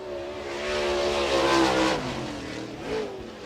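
A MARS late model race car, number 24, roars past on a dirt oval at Cedar County Raceway, its engine note rising and falling loudly as it passes close by.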